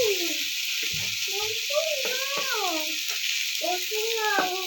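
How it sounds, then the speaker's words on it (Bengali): A steady sizzle of peas frying with turmeric in a pan, heard continuously while someone talks over it. "হলুদ দিয়ে একটু কষিয়ে নিই"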